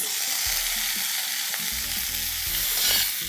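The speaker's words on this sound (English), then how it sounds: "we're going to heat another tablespoon of oil. Let's add 1 cup of fenugreek leaves" Fenugreek leaves sautéing in hot oil for a chicken biryani, a steady broadband sizzle with scattered scraping stirs and low clunks of a spatula against the pan, close and continuous without speech.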